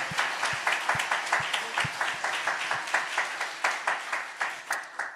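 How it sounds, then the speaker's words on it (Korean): A church congregation claps together in steady rhythmic unison during a fortieth-anniversary thanksgiving service, the beat clear and sustained throughout. "좋으신 하나님께 박수 치면서 하나님께 영광을 돌리겠습니다"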